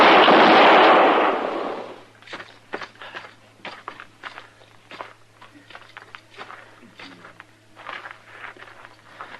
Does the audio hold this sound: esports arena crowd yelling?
no